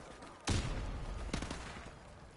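Gunfire from an AK rifle in a video game: a sharp, loud blast followed about a second later by a second cluster of shots, each trailing off into a rumbling echo.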